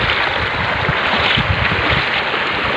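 Shallow river water rushing and splashing steadily while being crossed during a fishing outing, a continuous close broadband wash with no talk.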